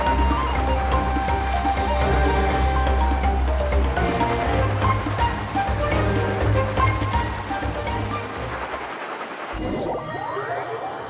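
Rushing water while surfing across waves in Genshin Impact, a loud churning wash mixed with game music, building and shifting as the board carves, then dropping away near the end into a sharp swoosh.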